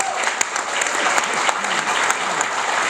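A conference audience applauds, a dense, sustained wash of clapping from a large crowd filling the room, loud and continuous.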